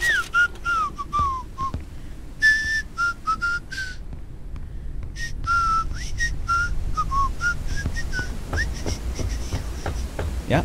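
A person whistles a quick, warbling melody of short, bright rising and falling phrases right into a close microphone, with brief pauses between bursts over a steady low background hum from the game Forever Skies.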